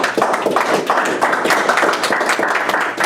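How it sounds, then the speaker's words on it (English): Audience applause at a school board meeting: steady, dense clapping from a room of people that fills the whole stretch at an even level, close and fairly loud with no talking. "So give everybody a round of applause."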